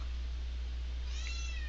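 A house cat named Bootsy lets out a single short meow near the end, clear above a constant low hum, with no voices.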